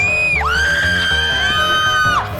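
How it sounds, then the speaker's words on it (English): A stock screaming sound effect: one loud, sustained high-pitched scream lasting about two seconds, bright and piercing, ending abruptly. "stock screaming sound effects"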